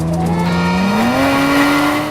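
A Toyota Avalon TRD Pro concept race car at Sonoma Raceway drives fast past close by, its engine note rising steadily in pitch as it accelerates, loud and alone.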